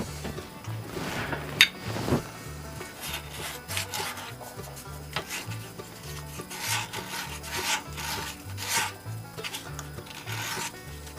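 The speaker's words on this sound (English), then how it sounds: "take a little sandpaper" Sandpaper rubs in a quick, irregular back-and-forth scratching on a part during reassembly of a Merc Mark 10 outboard, close and fairly quiet, with no talking.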